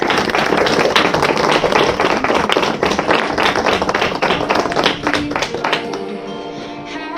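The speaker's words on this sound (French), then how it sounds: "vous pouvez les applaudir parce qu'il y en a 3 d'entre eux qui sont là" An audience at a morning awareness session in Besançon claps for three young creators. The applause is loud and dense, with many sharp hand claps close together, and it thins out toward the end.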